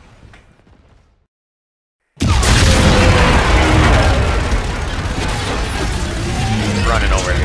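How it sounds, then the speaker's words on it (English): Loud, dense blast and debris rumble in Call of Duty: Infinite Warfare during a city attack, bursting in after a short silence and roaring on continuously, with game dialogue faint at the start. "Stop throwing grenades!"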